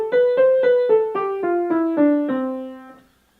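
A pitched instrument plays a descending line of about a dozen evenly spaced, non-swung eighth notes, each cleanly struck and ringing briefly, loud and close with nothing else heard, before the last note fades out.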